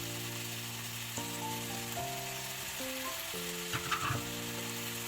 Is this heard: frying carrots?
yes